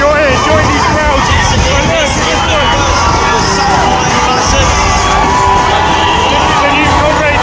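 Dense, steady crowd hubbub and cheering at the finish line of the Comrades Marathon, a 56-mile road race, loud and close throughout with shouts and babble from many spectators.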